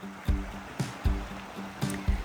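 Creek water on the hike to Matilija Falls in the Los Padres Mountains near Ojai, California, splashes and gurgles nearby in irregular surges, with several sharper splashes and a constant trickling wash underneath.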